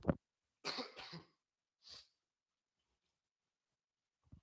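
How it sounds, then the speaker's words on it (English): A man coughs in a few harsh, close bursts, then a short throaty cough follows after a pause, with silence in between. "I got a cough, man."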